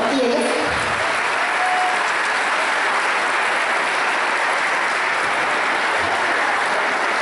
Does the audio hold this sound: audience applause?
yes